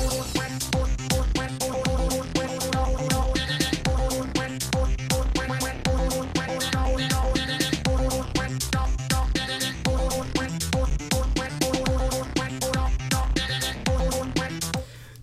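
A deliberately rough remix of a comedic song plays back loud and continuous, with a steady thumping beat, layered synth tones and repeating melodic stabs throughout, no talking over it.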